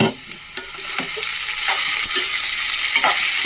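Ivy gourd (dondakaya) fries in a pan, giving a soft, steady crackle broken by several sharp stirring knocks and scrapes.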